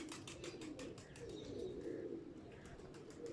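Pigeons coo softly and repeatedly at a moderate distance, with faint chirps and rustling around them.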